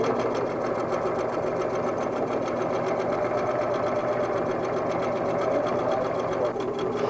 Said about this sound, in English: Lower your presser foot and your needle, backstitch, and sew using a 1/4 inch seam allowance.